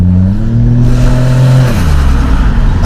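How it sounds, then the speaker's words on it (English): A Toyota Mark II JZX110 with a 1JZ turbo lets out a loud dump-valve blow-off as the engine note drops, heard up close from inside the car with the window down. "you do get to hear the dump valve with the window down"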